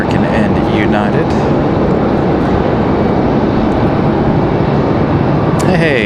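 American and United airliners depart Raleigh-Durham International Airport, producing a loud, sustained roar of jet engines with broad rumbling noise. A voice briefly speaks over it near the end.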